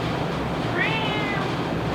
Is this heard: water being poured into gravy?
no